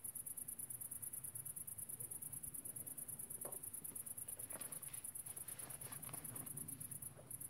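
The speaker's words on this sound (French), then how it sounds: "Ils doivent bien entendre les grillons." Crickets chirp outdoors at night, a fast, steady high-pitched trill that runs without a break, faint and distant, with a few soft rustles and clicks underneath.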